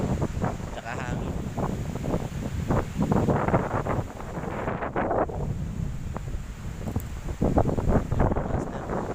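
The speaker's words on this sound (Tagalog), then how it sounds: "Malakas na halo no, tsaka hangin." Strong wind at sea on a small fishing boat, buffeting the microphone in constant gusty roars with water sloshing beneath, while someone talks loudly over it.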